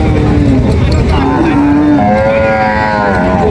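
A cow at a busy cattle market, where dairy cows are sold, lows in one long drawn-out moo with rising and falling tone. It is loud and close against steady crowd noise, with no talk over it.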